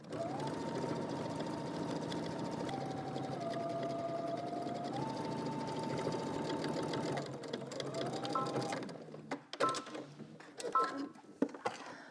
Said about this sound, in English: we're going to be stitching 1/4 inch away from our seam around our cup through all thickness